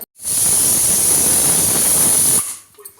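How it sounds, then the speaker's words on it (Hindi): A pressure cooker whistle blasts steam while potatoes boil, a loud close shrill hiss that holds steady for over two seconds and then cuts off abruptly, followed by faint kitchen clatter. "नीचे कुकर की सीटी बजे जा रही।"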